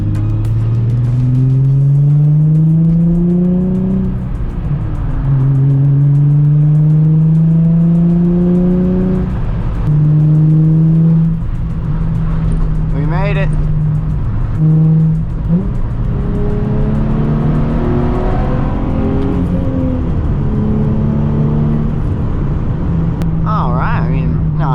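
A new Nissan Z at Tokyo Auto Salon 2022 drives steadily, its engine holding a loud, sustained drone with repeated rises in pitch as it accelerates through gears, close and continuous throughout.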